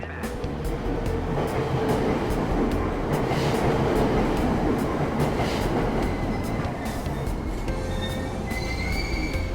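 Train pulling through a station in the video game Persona 5, a steady rumbling roar of rolling carriages with rattling wheels and faint squeals, loud and continuous throughout with no talking.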